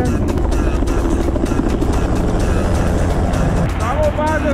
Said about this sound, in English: I'm positioned where the helicopter is gonna land